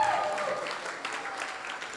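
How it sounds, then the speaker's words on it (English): Applause from wedding guests in the middle of the speeches, a steady broad patter of clapping that rises early on and then holds at a fairly even level for the whole stretch. "how about another round of applause for all the staff who made tonight so wonderful?"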